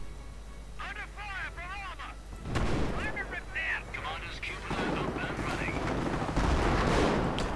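Rifle and sniper shots with artillery crack sharply in a World War II strategy video game, several bursts of gunfire layered under steady commentary.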